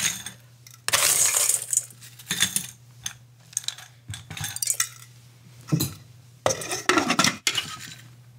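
Ice cubes are dropped into a highball glass for a Blue Hawaiian cocktail, several bright clinking bursts and rattles separated by short pauses, close and clear.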